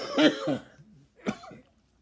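A man gives two harsh coughs, the first a double burst, then a single one after a short pause, close and clear.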